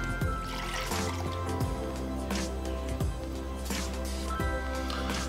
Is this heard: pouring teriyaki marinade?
yes